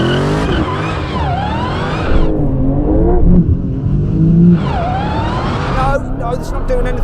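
A Dodge Challenger Demon spins its tyres at a drag race launch against a Porsche 911 Turbo S, a loud sustained engine roar with rising and falling revs and screeching wheelspin, while excited voices talk over it.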